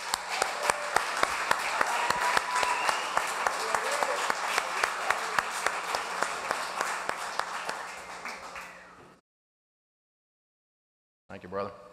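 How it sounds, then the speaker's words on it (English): An audience at a Radio Hall of Fame induction ceremony claps for about nine seconds, dense and sustained, then tapers off into silence before a brief burst of sound at the end. "Please give him a round of applause, please."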